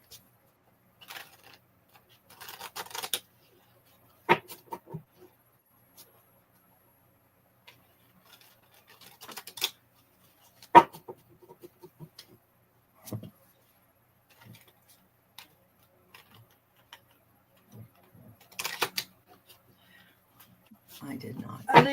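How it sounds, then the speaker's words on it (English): A deck of playing cards being shuffled by hand, heard as several short, crisp riffling bursts and scattered soft clicks, separated by quiet pauses. "Let me finish shuffling the cards."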